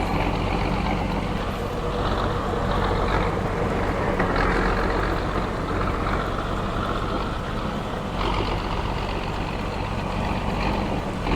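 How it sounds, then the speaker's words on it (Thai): A heavy diesel engine of a tracked tractor in Farming Simulator 22 drones steadily and loudly throughout, a low continuous rumble with a slight mechanical clatter and no voices. "เป็นเสียงของเครื่องยนต์เดิมฮะติดรถ"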